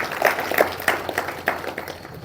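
Scattered applause from an audience at a public gathering held in Wathwada, Kalamb, Dharashiv, for Bhim Jayanti and Phule Jayanti; irregular claps rise and fade over a low murmur, moderately loud but not dense.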